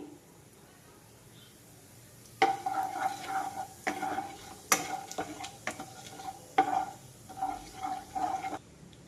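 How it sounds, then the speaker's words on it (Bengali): Dried red chillies, whole cumin and radhuni drop into hot mustard oil in a kadai, starting a sudden close sizzle that continues with uneven bursts of crackling and stirring scrapes. "এখানে ফোড়নে আমি দিয়ে দেবো শুকনো লঙ্কা, গোটা জিরে আর রাঁধুনি।"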